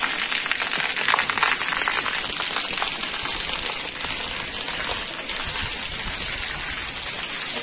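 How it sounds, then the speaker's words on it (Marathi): Water runs steadily at the grounds of the Shri Bhairavnath temple in Chinchghar village near Dapoli–Khed, a continuous broad hiss and splash like a flowing outlet, close and fairly loud with no voices. "आणि पाणी चालू झालेलं आहे."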